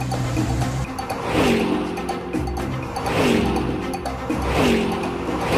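Car shifting through gears and pulling away, its engine revving and climbing in repeated surges, loud and close with steady road noise beneath.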